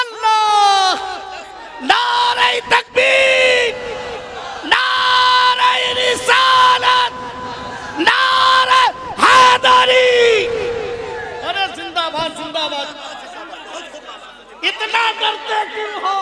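Crowd at a religious speech gathering roaring back in unison to the Nara-e-Takbir call, repeated loud collective shouts rising in bursts with pauses between, sustained chanting swells, and a voice leading over them.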